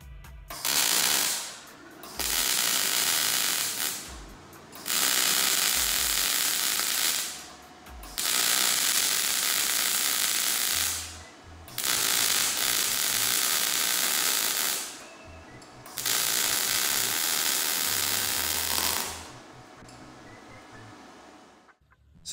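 An Arc Captain MIG205Pro MIG welder in synergic mode lays beads in about six loud, sustained crackling bursts of a few seconds each, separated by brief pauses, with no one talking.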